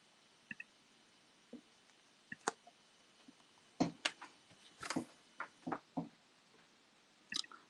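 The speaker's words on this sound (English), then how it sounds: "He's typing here once again." Irregular clicks and taps of keys, sparse at first then quicker clusters, close by and fairly quiet, with no talking.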